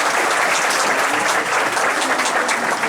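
Sustained applause from a crowd honoring a staff member at a university graduation ceremony in Brazil, steady and dense clapping throughout with no pauses.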